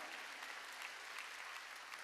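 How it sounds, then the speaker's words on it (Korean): Congregation applauding during a Wednesday church service: steady, even clapping from many hands, dense and continuous, heard at a distance and fairly quiet. "박수 치라 얘기야."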